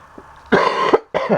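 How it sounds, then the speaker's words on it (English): Two harsh coughs close by, the first a longer rasping burst and the second a shorter one after a brief pause, with no talking. "there's that coughing again"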